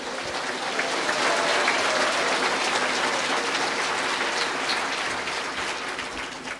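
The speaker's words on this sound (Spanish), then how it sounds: "Fuerte aplausos, iglesia de Cristo" Steady, loud applause from a church congregation fills the space, a dense crackle of many hands clapping that holds evenly before tapering slightly at the end.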